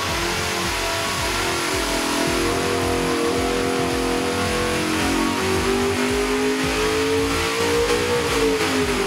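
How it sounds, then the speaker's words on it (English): A Ford Windsor V8 fitted with CNC-machined alloy cylinder heads revs hard on a dyno pull, a loud sustained engine roar that climbs steadily in pitch, dips, then rises again toward the end, with no talking. "first pull on the dyno"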